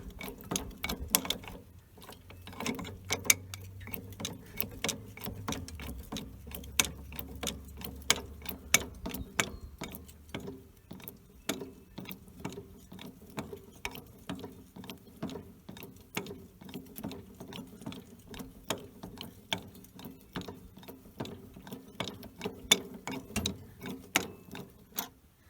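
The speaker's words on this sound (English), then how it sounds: "You can just go onto the PTO shaft and just go back and forth." A Ford 8N tractor's PTO shaft is being turned by hand back and forth to work the hydraulic lift, giving a steady run of close, quiet mechanical clicks and ratcheting taps with no talking.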